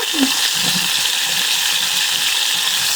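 Hilsa fish fries in a pan while being stirred, giving a steady close sizzle broken by scraping, rattling strokes of the utensil against the pan.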